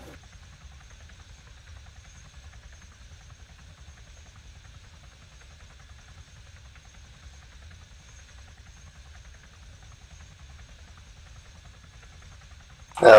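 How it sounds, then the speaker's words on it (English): A helicopter flies at a distance, giving a steady low rotor rumble with a faint engine whine above it. A short, louder burst comes right at the end. "Yeah, this is a good helicopter."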